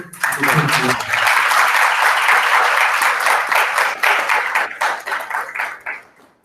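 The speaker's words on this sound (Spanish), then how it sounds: "un fuerte abrazo y un aplauso, por favor" Audience applause at a university award presentation honoring a doctor, loud dense clapping rising quickly after a brief voice, holding steady, then thinning and fading out over the last second.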